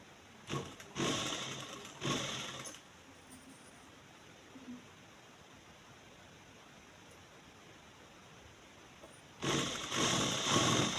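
Sewing machine stitching the bottom hem of a palazzo, with loud bursts of rapid stitching at the start and again near the end, separated by a long stretch of quieter steady hiss.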